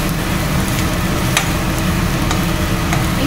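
Close, continuous stirring and frying in a pan on a home stove, with a steady broadband sizzle and occasional sharp scrapes of the spoon against the metal, no talking.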